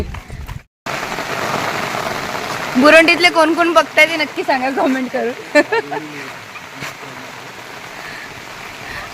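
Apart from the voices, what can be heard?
rain falling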